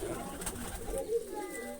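Pigeons coo softly in a loft, making a few low, gentle calls at close range, with a person talking quietly nearby.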